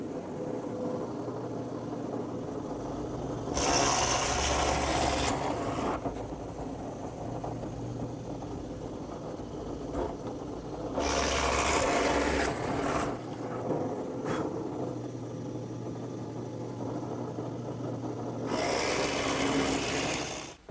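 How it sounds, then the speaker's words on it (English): A drill press fitted with a Forstner bit bores holes through wood, three loud bursts of cutting against a steady motor hum, each lasting a couple of seconds. "So I've set up my drill press with a Forstner bit, a little clamp as a straight edge"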